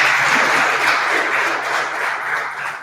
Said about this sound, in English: let's give your teachers and all the rest of the Skills Center staff a round of applause